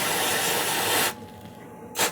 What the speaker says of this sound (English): I've actually figured out how to get these off the dop stick with this compressed air stuff.